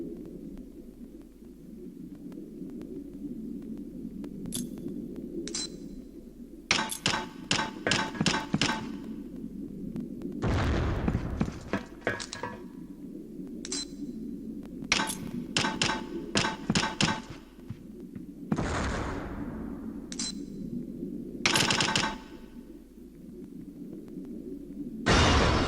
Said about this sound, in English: This explosives range will help teach you about throwing grenades. Take a few practice throws